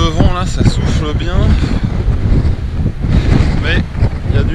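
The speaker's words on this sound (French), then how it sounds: "Bon là on a pas mal de vent là, ça souffle bien." Heavy wind buffets the microphone on an exposed stretch of a mountain trail race, a loud, constant rumbling roar with surging gusts while a runner talks over it.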